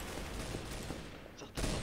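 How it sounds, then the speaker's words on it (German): Rapid gunfire from a shooting range in the video game Trouble in Terrorist Town, a continuous dense volley of shots at moderate loudness that cuts out briefly near the end, then resumes. "Wer ballert denn da rum? Ach, ach, das ist ein Schießstand."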